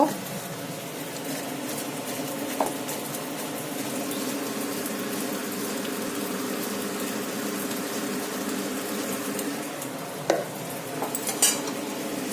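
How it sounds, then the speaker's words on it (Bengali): Cornflour being stirred into water in a bowl, a steady faint swishing over a continuous kitchen hum, with a few sharp clinks of a spoon against the bowl near the end. "একটু কর্নফ্লাওয়ার গুলে নেব"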